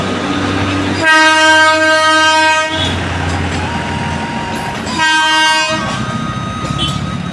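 The Darjeeling Himalayan Railway toy train passes at Batasia Loop, sounding two loud sustained horn blasts over the steady rumble and clatter of the moving cars close by.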